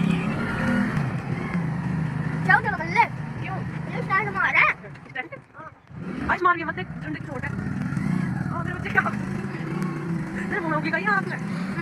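A Splendor Passion Pro motorcycle engine hums steadily while riding, dipping briefly midway and then picking back up, as someone talks over it.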